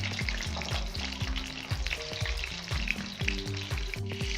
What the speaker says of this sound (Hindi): कबाब हमारे एक तरफ से फ्राई हो गए हैं। अब मैं इनकी साइड चेंज करूंगी।